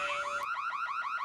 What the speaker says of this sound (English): the beeping sound effect is what annoys me the most.